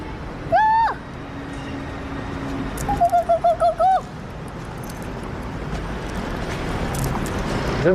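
Pigeons cooing: a single clear call near the start, then a quick series of five or six cooing pulses, heard against a steady noisy background.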